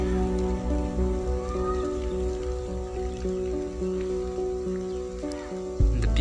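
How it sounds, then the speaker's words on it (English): Heavy rain falling over a village in Sindh, a steady wash of drops on surfaces throughout, with a low hum and other sounds beneath and a brief thump near the end. "you can watch that it is raining now"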